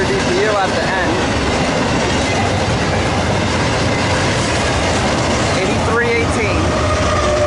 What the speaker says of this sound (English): there goes the westbound Z train